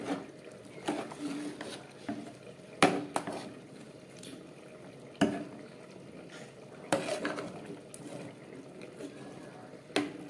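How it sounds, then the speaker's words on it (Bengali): Labra mixed vegetable curry, actually a milk payesh at this point, stirred in a pot with a spoon, giving intermittent scraping knocks against the metal and soft liquid stirring sounds at close range. "এবার একটু ভালো করে নেড়ে এটাকে ঢাকা দিয়ে আমি রেখে দেবো"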